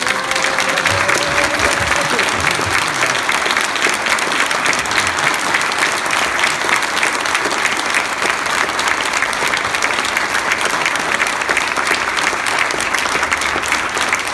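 Sustained applause from an audience at an award ceremony, steady and dense across the whole stretch, with a brief voice near the start.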